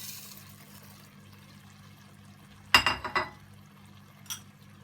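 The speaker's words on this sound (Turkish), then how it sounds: "Etlerle tamamen kapatacak biçimde yarım kilo basmati pirincimizi ilave ediyoruz." Basmati rice, about half a kilo, is added to a pot over meat for Uzbek pilaf. Faint kitchen noise gives way to a short, loud burst of grains rattling and pouring, followed by one brief softer patter.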